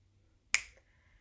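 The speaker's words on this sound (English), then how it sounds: "and we snapped our fingers" A single crisp finger snap during a children's music and movement class, close and clear, with silence before and a short fading tail after.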